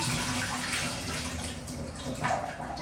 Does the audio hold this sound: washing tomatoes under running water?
yes